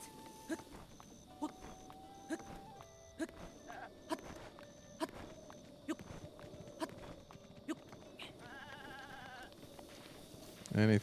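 A goat in the video game Breath of the Wild bleats in a few short calls over quiet ambience and a steady run of regular footstep thuds, with a brief louder thump at the end.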